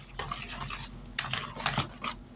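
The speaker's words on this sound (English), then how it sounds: "Let's give this a stir." A spoon stirs spices into a pie filling in a bowl, giving soft scraping and light clinks in a quiet kitchen, with a few sharper taps toward the middle and end.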